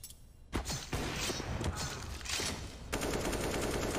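Gunfire in the video game Counter-Strike, dense rapid bursts of automatic shots with mechanical clatter, loud and continuous, shifting to a sharper steady rattle near the end.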